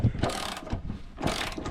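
Spanner ratcheting to undo a bolt during a Range Rover restoration, two short bursts of metallic clicking separated by a brief pause, close and fairly loud with no talk.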